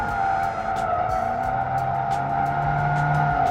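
A Ford Mustang drifts around a cone, its engine holding a steady loud drone while the tires squeal and skid in repeated bursts, with throttle swells rising and falling.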